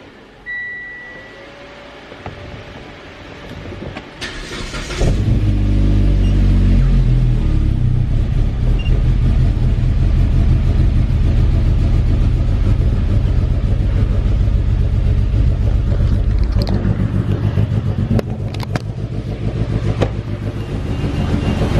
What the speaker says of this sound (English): Car starts, but sounds really weird.